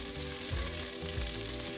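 Onions, ginger and garlic frying in a pan for Filipino chicken tinola, a close, continuous sizzle with stirring scrapes, fairly quiet and with no talking.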